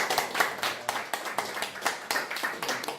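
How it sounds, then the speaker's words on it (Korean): Lecture audience clapping for a professor at the close of a talk on post-unification economic issues, a steady burst of many hands with rhythmic peaks, fairly close and with no talking over it. "정기승 교수님을 위해서 큰 박수 한번 다시"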